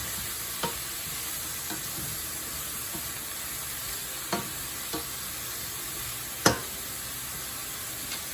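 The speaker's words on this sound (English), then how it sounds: "gonna go ahead and cook all of these vegetables until they are tender." Vegetables sizzle steadily in a hot pan at home while they cook until tender, with a few sharp clinks of stirring against the pan and no talking.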